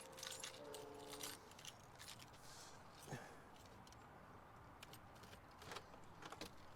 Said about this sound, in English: So trying to find my keys.